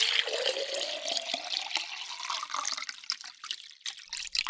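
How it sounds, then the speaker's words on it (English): Water is drunk from a container in a quiet room, giving a few seconds of close liquid sloshing and trickling that fades into soft, scattered drips. "me drink some water."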